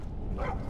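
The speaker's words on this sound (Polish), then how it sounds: "chyba zje ją pies" Dog barking in the video game Skyrim, a single soft bark rising briefly in the middle of a quiet, low background.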